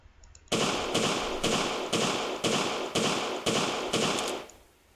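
A German Luger pistol fired in quick succession: about eight loud, evenly spaced shots roughly half a second apart, each with a short ringing tail, then silence.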